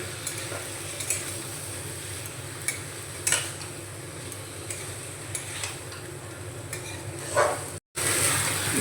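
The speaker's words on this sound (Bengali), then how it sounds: "এবার আমি এই ম্যারিনেট করা চিংড়ি মাছটা দিয়ে দেব। ভালো করে কষিয়ে নেব।" Marinated prawns sauté in an oily spiced masala in a pan, a steady sizzle running beneath occasional scrapes and clinks of a spoon stirring, close and fairly loud throughout.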